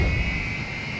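A jet airliner takes off at MSP airport, and its engines give a loud, steady roar with a sustained whine on top.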